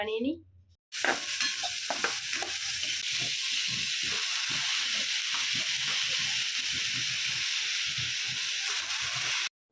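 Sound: stirring khichuri cooking on a stove

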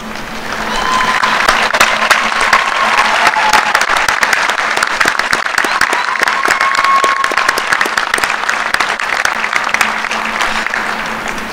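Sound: graduates standing and applauding the faculty

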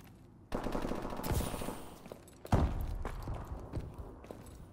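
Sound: gunfire in the video game Call of Duty: Advanced Warfare

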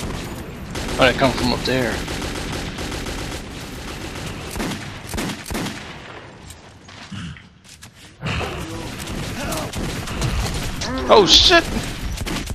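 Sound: gunfire from shooting in the video game Metro 2033

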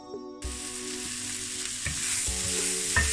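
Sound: onion sautéing and being stirred in a frying pan

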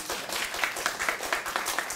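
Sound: audience applause

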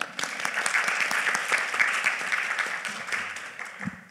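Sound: applause for a speaker

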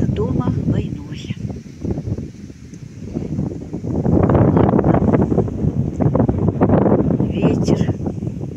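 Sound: wind blowing over reeds on a riverbank

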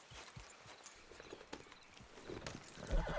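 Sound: horse hooves in a video game

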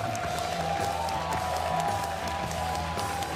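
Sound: crowd applauding at esports match

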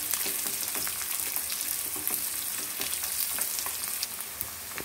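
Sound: garlic frying in oil for tamarind pickle

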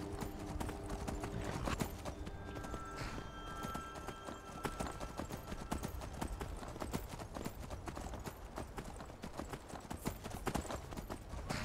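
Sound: horse hooves and whinny in Skyrim video game

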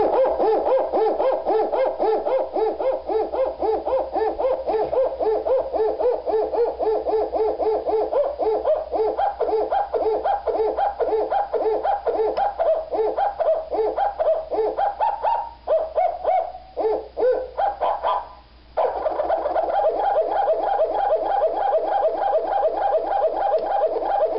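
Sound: circuit-bent bird song calendar sounds sequenced into music

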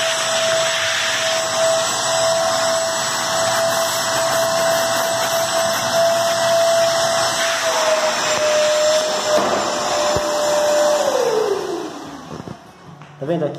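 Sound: vacuum cleaner on floor before waxing

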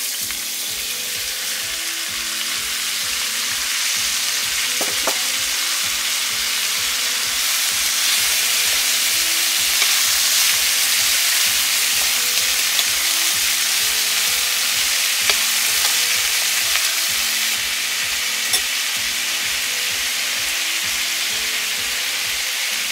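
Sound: papdi beans and asafoetida frying in a pan

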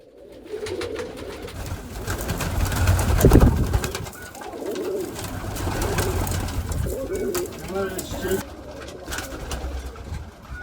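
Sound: pigeons cooing

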